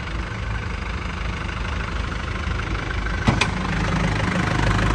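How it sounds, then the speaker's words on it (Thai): An Isuzu Dragon pickup's engine idles steadily up close, a continuous mid-low rumble with a brief clatter midway and a slight rise toward the end, no talk. "ช่างทอดเปิดเครื่องหน่อย มาครับ มาฟังเสียงเครื่องก่อนดูภายในครับ"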